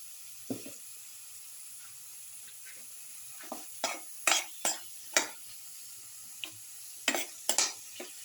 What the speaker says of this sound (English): thoroughly mix the tomato pieces and salt